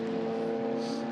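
A GT4 race car powers through a corner at the Macau Grand Prix, its engine a strong, steady harmonic drone held near and loud for a brief stretch.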